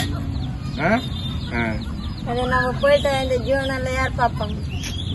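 Chickens cluck and squawk repeatedly in short bursts, fairly close, over a steady background hum; voices can be heard in the background.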